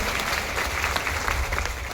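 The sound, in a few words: audience applause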